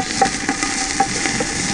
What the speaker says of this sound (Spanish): Le echamos la cebolla.